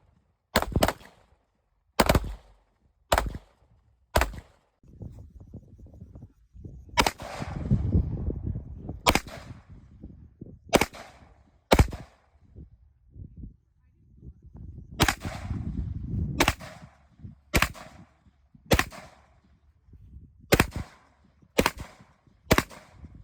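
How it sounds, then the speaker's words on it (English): Handguns fire at a shooting range, about fifteen sharp, loud cracks at irregular intervals, with low murmuring and background rumble between the shots. "So we just shot handguns for past hour and a half or so."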